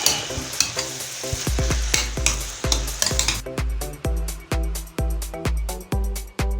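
A spoon stirs granulated dry pepper into a sauce mixture for party spring rolls. It scrapes the pan in quick, regular strokes, close and fairly loud over a faint sizzle.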